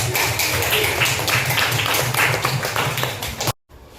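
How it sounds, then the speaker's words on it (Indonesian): A burst of applause from a school class, steady dense clapping that cuts off abruptly near the end. "beri tepuk tangan untuk kita semua yang sudah"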